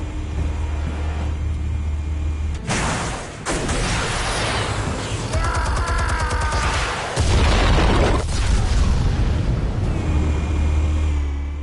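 Explosives detonate in a Batman video game, a loud sustained roar of blasts with deep rumbling lows and crackling debris that swells and fades over several seconds, then settles into a low rumble.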